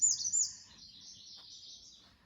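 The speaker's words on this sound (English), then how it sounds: "the loud bird just above us is a redstart." A redstart sings loudly from just overhead in a summer garden, a bright, high twittering phrase that is strongest at the start and then trails into a softer, steady warble, with no talk.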